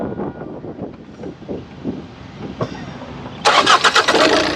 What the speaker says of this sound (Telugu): సింగిల్ సెల్ఫ్లో కార్ స్టార్ట్ అవుతుందండి